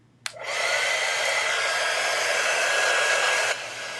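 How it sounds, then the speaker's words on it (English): A hair dryer switches on with a click and blows steadily at close range for about three seconds, drying stain on a stained glass project, then cuts off. "I'm going to go ahead and dry"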